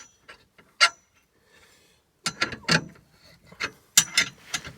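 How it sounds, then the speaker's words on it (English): Ratcheting 15/16 wrench tightening the top bolt on an Andersen fifth-wheel gooseneck adapter, heard as a few close, sharp clicking bursts with brief pauses between strokes. "15/16 wrench, and then I tighten the top bolt."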